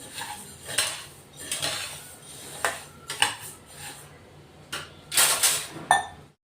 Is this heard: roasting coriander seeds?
yes